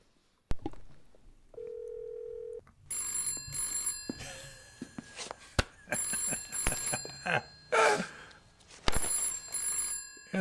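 A telephone rings in Phantasmagoria, several bursts of bright trilling bell rings with short pauses between them. A brief steady tone and scattered clicks and thumps come before and among the rings.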